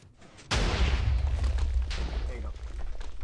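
TNT firework cannon firing in Minecraft, a single loud booming blast that bursts in after a quiet start and rumbles on heavily to the end, with a voice talking over it.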